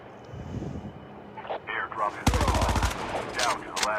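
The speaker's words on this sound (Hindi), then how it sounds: "तभी तभी गाइस उधर से कोई फायरिंग कर रहा होता है स्नाइपर से।" Rapid sniper rifle gunfire from a video game match bursts loudly and dense for under a second, with further shots and game effects following, while someone talks over it.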